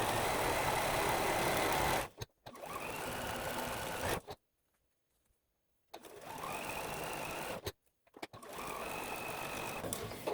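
A sewing machine stitches around a circular appliqué shape for a quilt block, running in steady bursts that stop twice with brief silences before starting again, close and clear.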